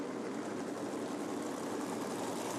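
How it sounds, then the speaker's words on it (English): A field of sprint cars idling down the back straightaway of a speedway, a steady low engine drone and rumble with no breaks, heard continuously at moderate level. "Field idling down the back straightaway."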